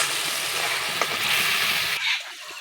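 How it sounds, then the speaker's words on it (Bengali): Spice paste frying in oil for a vegetarian potol (pointed gourd) and soybean curry, a steady close sizzle and crackle that eases off near the end as a stir breaks in. "মশলাটাকে ভালো করে ভেজে নেব"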